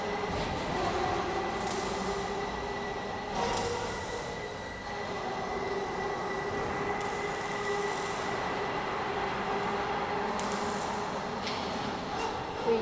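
A six-rib trapezoidal sheet roll forming machine with servo motor and friction rollers running steadily, a continuous mechanical drone with a whining tonal hum and occasional brief hissing bursts over it.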